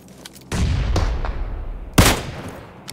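Gunfire in the mobile battle game PUBG Mobile: two sharp, loud bursts, the first followed by a decaying rumble with faint trailing shots, the second a brief crack about a second and a half later, over quiet background.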